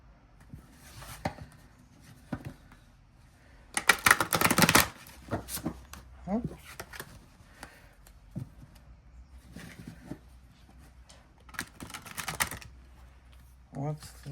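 Cards are shuffled in quick riffling bursts, loudest in one busy stretch, with softer tapping and handling sounds between; someone murmurs intermittently.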